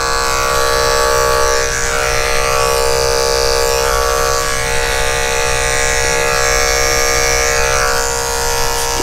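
Electric clippers shaving the face of a Lhasa Apso dog, a loud, steady, close-up buzzing drone that holds throughout with no talk.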